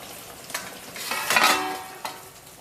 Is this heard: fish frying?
yes